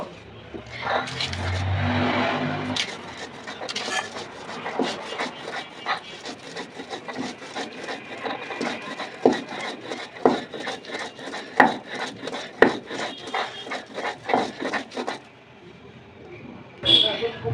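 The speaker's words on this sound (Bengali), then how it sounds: "এখানে কাঁচা লঙ্কা শুকনো লঙ্কা সব দিয়ে দিয়েছি তারপরে লবণও দিয়ে দিলাম এখন এটা সুন্দরভাবে বেটে নেব" Green and dried chillies with salt are ground into a paste, a steady rhythmic rasping and scraping of stone strokes repeating closely and loudly, with faint background sounds.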